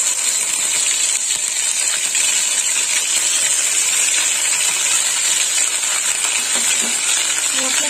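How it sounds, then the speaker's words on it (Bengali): Ground spice paste dropped into hot oil in a home kitchen, sizzling in a steady, loud, broadband hiss that stays constant throughout with faint clinks near the end. "দিয়ে দিলাম বেটে রাখা মশলা।"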